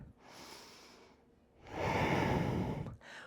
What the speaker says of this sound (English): one more full deep breath in and out.